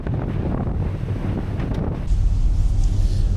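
Strong gusting wind, around 50 knots, buffets the microphone on the open deck of the ferry MV Clansman leaving Oban for Colonsay in rough seas. The roar is loud and continuous and swells even stronger partway through.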